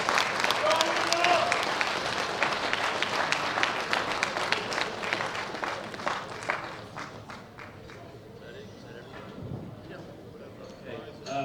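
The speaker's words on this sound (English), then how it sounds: "Big round of applause." Crowd applause at a women's world bench press championship meet, loud dense clapping that fills the hall for several seconds, then thins and fades toward the end, with faint voices underneath.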